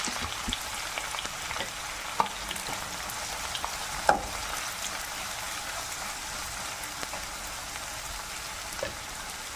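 Sliced onions go into hot oil where garlic is already browning, for a Kerala home lunch, giving a steady, rain-like sizzle throughout with a few brief louder crackles and clicks.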